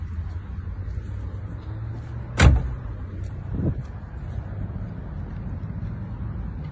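A car door, on a new four-motor electric car, slams with one sharp thud, followed a second later by a softer second closing, over a low idle rumble as people get in; no speech.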